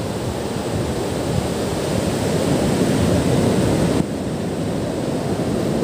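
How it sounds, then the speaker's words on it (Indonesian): Loud, constant roar of big surf at Panggul beach, broad rushing noise with steady wind buffeting the microphone and no clear breaks between waves. "Waduh, ombaknya besar sekali"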